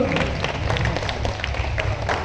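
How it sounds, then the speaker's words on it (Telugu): A crowd at a Telangana activists' awards program claps steadily and densely, a continuous close patter of many hands. "గట్టిగా చప్పట్లు."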